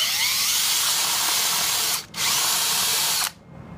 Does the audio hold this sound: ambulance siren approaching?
no